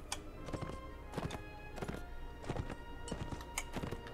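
Horse hooves clop in a steady walking rhythm in the Mount and Blade Warband video game arena, a soft, fairly close series of thuds with no talk over them.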